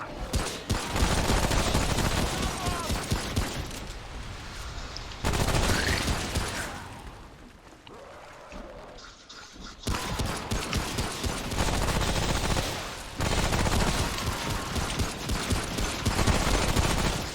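Sustained, dense volleys of automatic gunfire from the video game Remnant: From the Ashes crackle loudly and almost continuously, easing briefly in a few short lulls.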